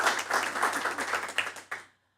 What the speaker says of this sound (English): maybe a round of applause for Mr.